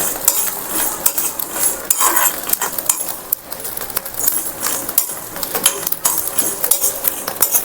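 Peanuts and sesame seeds roast in a pan while a utensil stirs and scrapes them, giving repeated clinking, scraping strokes with a light dry sizzle throughout and no talk.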